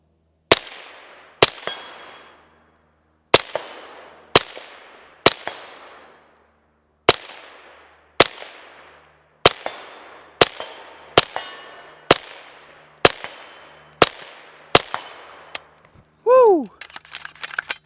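Suppressed firearm shots ring out at steel targets a hundred yards away, about fourteen sharp cracks in an uneven rhythm, each with a short decaying tail, ending in a brief higher tone.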